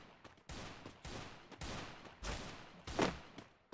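Gunfire in the Garena Free Fire mobile game, a series of loud bursts of rapid shots in uneven rhythm, one bang standing out near the end, with no talking over it.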